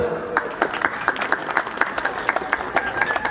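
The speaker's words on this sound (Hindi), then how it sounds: "भाई, ताली बजा दो।" Applause from the audience at a live stage show: steady clapping from a crowd that stays fairly close and even, with scattered sharper claps standing out through the short burst.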